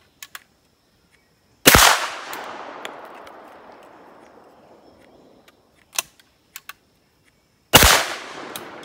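Two loud, close shotgun blasts several seconds apart, each a sharp crack with a long decaying echo, part of a July 4th session firing shotguns of every gauge, with faint clicks between.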